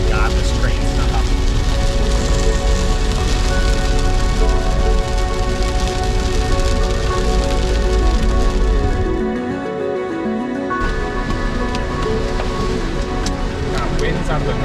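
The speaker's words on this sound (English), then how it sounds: "It was the first ping of hail off the car." Hail and rain pelt a car during a supercell storm in Indiana, a dense, loud roar of drumming on the roof and glass that continues throughout, easing briefly partway through before resuming.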